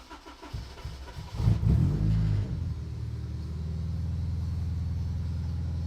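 A Honda Ferio with a K24 engine cranks briefly and catches, then settles into a steady low idle rumble that continues close and even to the end.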